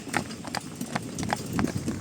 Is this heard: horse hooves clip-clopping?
yes